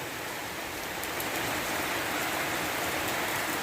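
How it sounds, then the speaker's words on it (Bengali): Steady rain pours down in Kotalipara, Bangladesh, a dense, even hiss of drops hitting surfaces nearby, constant throughout with no voices. "দেখুন বৃষ্টি রিমঝিম রিমঝিম বৃষ্টি নামছে"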